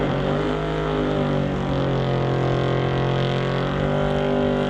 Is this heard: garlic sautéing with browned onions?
no